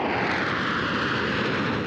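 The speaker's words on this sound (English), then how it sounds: "Residents got to see a variety of high-flying planes, including the world-famous Blue Angels." Airplanes flying over the Magic Valley Air Show, a loud, steady broadband engine roar filling the whole stretch without pause, with no talking.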